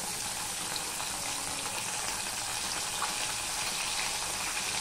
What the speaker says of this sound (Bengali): এবার আমি আরো দুটো বাটা মাছ দিয়ে দিলাম।